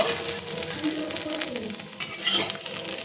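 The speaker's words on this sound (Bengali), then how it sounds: "ফোড়ন দিয়ে দিয়েছি ফোড়নে তেজপাতা জিরে আর কাঁচা লঙ্কা ফোড়ন দিয়েছি" Bay leaf, cumin seeds and green chilli crackle and sizzle in hot oil, a close, lively frying hiss stirred with occasional light clinks of a utensil against the pan.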